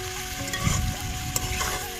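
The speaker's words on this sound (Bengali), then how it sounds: "এটাকে বলা হয় কষিয়ে রান্না" Crabs and fish from the Sundarbans sizzle steadily as they are sautéed and stirred in a pan, with scraping stirs and small pops over a continuous frying hiss.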